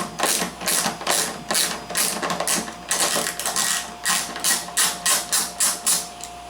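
A 5mm bolt being backed out of the headlight housing on a 2015 Ford F250, heard as a close, rapid run of ratchet clicks in short bursts, speeding up toward the end, with no talking.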